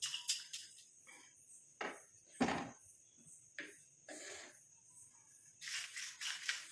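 Dry-roasted coconut, curry leaves and black cumin rattle in a pan in scattered, crisp bursts of clatter between quiet gaps, close and fairly soft.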